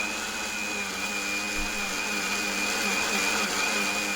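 An electric blender grinding green chutney for vada pav, a loud, steady whirring drone with a constant high whine, running unbroken from start to finish.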